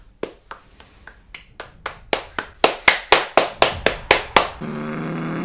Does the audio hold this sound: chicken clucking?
no